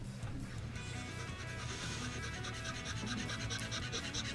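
Files rasp along the edge of a wooden truss rod cover for a neck-through guitar, a quiet repeated scraping in short back-and-forth strokes, close up with no talk.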